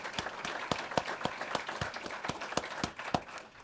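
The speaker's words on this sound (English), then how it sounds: "Let's give them a round of applause." An audience at a sponsored public talk gives a round of applause, with loose, fairly faint, evenly spaced claps and a hint of background noise.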